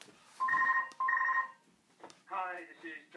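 A phone ringtone plays two electronic trilling rings, followed by a rapid warbling tone, fairly quiet and close with brief speech around it.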